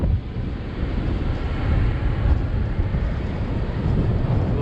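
Strong outdoor wind buffets the microphone in a constant low roar that surges slightly at times and continues throughout with no break.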